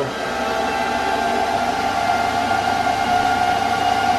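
Antminer S9 bitcoin miner fans blowing air inside a cooler, a loud steady whooshing drone with a constant tonal hum, unbroken throughout.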